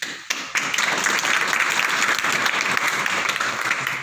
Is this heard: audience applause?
yes